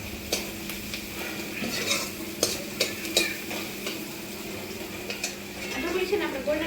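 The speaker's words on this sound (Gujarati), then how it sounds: "આ ડુંગળી છે ને આપણે ગોલ્ડન બ્રાઉન થાય ને ત્યાં સુધી સાદળી લેવાની છે." Onion sautés in a pan until golden brown in a home kitchen. A quiet sizzle runs under repeated scrapes and clinks of a spoon stirring against the pan.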